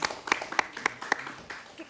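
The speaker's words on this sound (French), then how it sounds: "On peut les applaudir, s'il vous plaît." Sparse, uneven clapping from a studio audience at a French reality-television event, with a few distinct sharp claps spaced out over quiet room sound, faint and thin rather than a full ovation.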